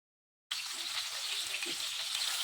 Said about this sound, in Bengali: এ পিঠ ও পিঠ দুই পিঠ করেই বেশ কিছুক্ষণ ভেজে নিতে হবে